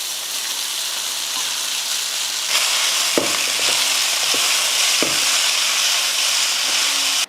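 Vermicelli stir-fried in oil with cashews and peanuts crackles in a steady, close sizzle, broken by a few sharp scraping knocks of a spoon against the pan.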